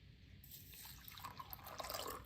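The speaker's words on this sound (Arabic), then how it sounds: "ماء اللي يكون مغلى" Boiled water is poured over a spoonful of thyme in a cup, a steady close trickle and splash that grows slightly busier as it fills, with no talk.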